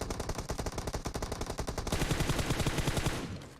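Rapid automatic gunfire in PUBG Mobile, a fast steady stream of close, loud shots sustained for several seconds without talk.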